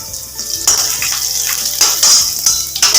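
Ginger, garlic and chillies frying in a pan, a bright close sizzle that rises in bursts as a spoon stirs and scrapes the metal, loud and with no talk.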